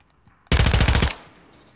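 A suppressed AMR9 submachine gun in Call of Duty: Warzone fires one rapid, evenly spaced burst of about half a second. The shots are loud and close, with a short tail fading after the burst, and nobody speaks.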